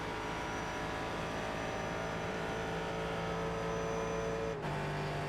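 Race cars, including a McLaren GT, circle the track in iRacing, with a sustained, loud engine drone whose pitch holds steady and then drops abruptly near the end as one car passes.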